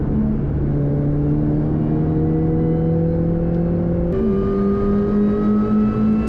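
A budget Mini Cooper race car laps Oulton Park, heard from inside as a loud, steady engine drone holding one pitch, then a quick shift near four seconds to a new steady tone.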